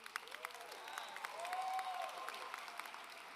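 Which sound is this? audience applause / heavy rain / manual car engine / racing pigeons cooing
audience applause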